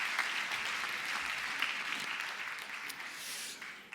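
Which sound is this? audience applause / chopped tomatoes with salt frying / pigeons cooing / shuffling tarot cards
audience applause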